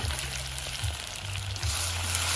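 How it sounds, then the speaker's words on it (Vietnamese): Small snakehead fish braise in a caramel sauce of sugar in a pan, giving a steady close sizzle and crackle with a low bubbling hum underneath and no voices. "Bây giờ mình kho cá nha."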